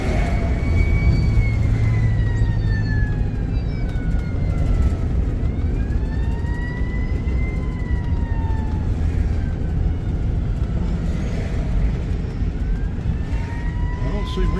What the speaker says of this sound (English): I don't see where that siren's coming from.